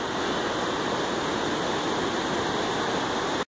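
A heavy current of muddy water rushes through a ditch beside a cornfield after heavy rain, a loud, steady roar that fills the whole stretch and cuts off abruptly at the end.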